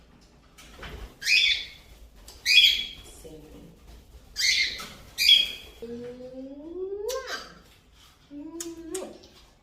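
A cockatiel gives a series of loud, sharp chirps and squawks in separate bursts, close by, with a voice speaking briefly between calls.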